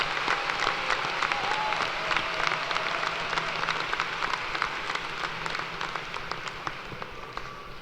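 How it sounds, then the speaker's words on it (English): University commencement audience applauding, a large hall crowd's steady broad clapping that carries on evenly for several seconds and slowly tapers, heard at a moderate distance. "Let's give a round of applause for all of these individuals."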